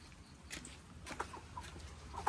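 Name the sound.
chickens clucking near the coop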